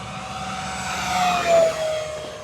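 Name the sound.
E-flite P-47 Razorback RC model plane flying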